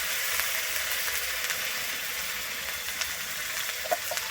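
Ground onion paste with turmeric sizzles in hot oil in a pan for a tangra fish curry, a steady close hiss that runs unbroken, with faint stirring clicks near the end.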